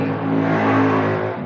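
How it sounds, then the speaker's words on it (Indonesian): Motorcycle engine passing close by outdoors, a loud steady mid-pitched drone that swells and fades over a second and a half, with no talking over it. "Maaf tadi suara motor lewat ya."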